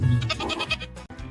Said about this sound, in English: Fainting goats stay conscious.